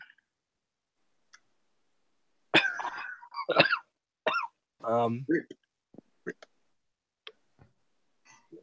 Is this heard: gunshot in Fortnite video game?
no